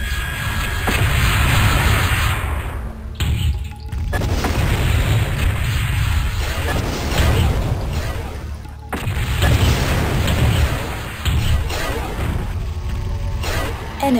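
An enemy mech is destroyed in the video game Mechwarrior 2: Mercenaries, with loud, heavy booms and rolling blast rumble that nearly fill the clip, broken by two short lulls.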